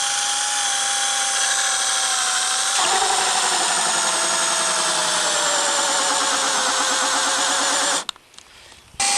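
Power drill boring holes through a boat deck for a South Pacific windlass installation, a loud steady whine running continuously, its pitch dipping as it bites in, then cutting out abruptly near the end.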